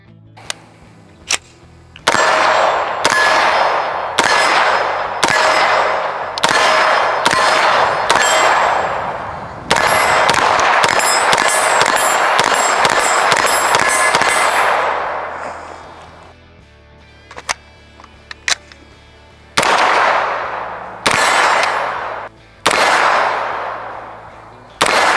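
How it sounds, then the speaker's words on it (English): Sharp, loud shots from a POF Phoenix 9mm firing Norma frangible ammunition at a range, with rapid strings of rounds, short pauses, and a long fast burst in the middle before more spaced shots. "Let's put some rounds through this thing."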